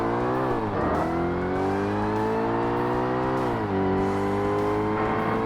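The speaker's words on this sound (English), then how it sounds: "I hit the rev limiter again." A Ferrari's engine screams at sustained high revs against the rev limiter in Forza Motorsport on the original Xbox, a loud, steady harmonic drone that briefly dips and surges twice, with no talking.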